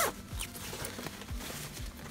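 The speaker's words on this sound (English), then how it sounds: "So you just need to cut the thread on the zipper to unzip" Zipper on a plush teddy bear's fabric body-bag pouch being unzipped, a few quick rasping pulls in short bursts, close and moderately loud with no talking.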